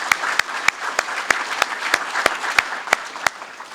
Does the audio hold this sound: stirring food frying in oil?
no